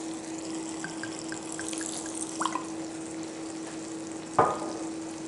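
Bacon jam with balsamic vinegar simmers in a pan, giving a steady low sizzle and bubbling with a few soft drips and clinks, then one sharp clatter of a utensil near the end.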